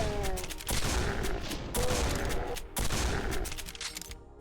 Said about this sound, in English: the trench gun absolutely kicks ass